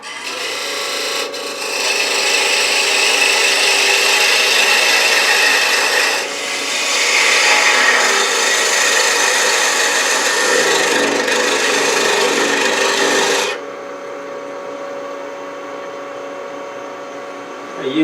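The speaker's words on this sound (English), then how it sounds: "I use a 3/8" spindle gouge." A 3/8 inch spindle gouge cuts a wooden antique bedpost finial on a lathe, a loud, continuous close scraping hiss with brief dips as the tool shifts, then the cutting stops and a quieter hum remains.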